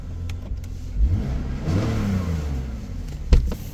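A BMW E46 engine runs roughly after a spark plug replacement, with a steady close mechanical hum that swells briefly as if revved, plus a few soft knocks around it.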